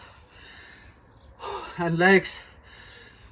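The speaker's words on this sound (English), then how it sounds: "breathing's still a little bit hampered by the weather" Heavy gasping breaths during a hot-weather workout, a short burst of labored inhaling and exhaling close to the microphone, mixed with a couple of spoken words over quiet background noise.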